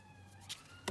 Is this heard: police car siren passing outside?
yes